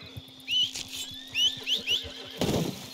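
In Red Dead Redemption 2, a horse whinnies after being called, its high neighs over soft hoof clops and a steady hum, ending in a short rustling burst.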